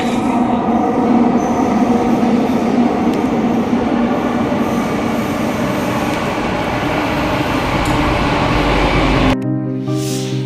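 Mumbai's Aqua Line underground metro train rumbles loudly and continuously, with a steady, droning roar and faint squeals. Near the end the roar cuts off and a short tonal chime follows.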